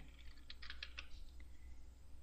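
A few quick, faint keystrokes tapped on a computer keyboard to enter a short key combination, close and clicky against a quiet room hum.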